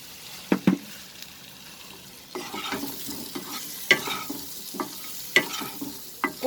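Garlic fries in butter over a medium flame with a soft, steady sizzle, while a utensil scrapes and clacks against the pan in irregular strokes, close up.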